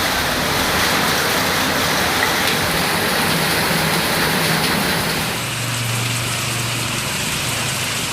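Heavy rain with strong wind in Tamil Nadu, a loud, steady hissing downpour that fills the whole clip, easing slightly toward the end while a low hum appears underneath.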